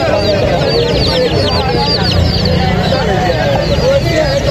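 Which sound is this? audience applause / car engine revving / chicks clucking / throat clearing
chicks clucking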